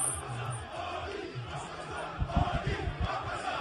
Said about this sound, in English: See the crowd, and as people begin chanting.